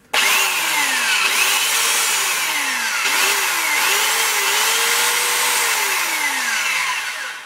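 A belt sander whines loudly and continuously for several seconds, its pitch dipping and rising as it is pressed against a surface.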